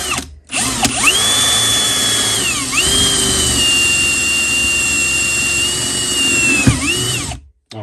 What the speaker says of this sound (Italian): Usiamo il classico avvitatore.